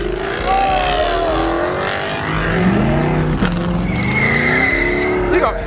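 A Dodge Charger Hellcat Redeye doing a burnout, tires squealing in long wavering screeches over a loud, steady engine roar, close by, with people shouting and talking throughout.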